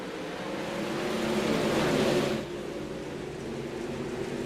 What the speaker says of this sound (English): These are some loud cars, and they are ready to go.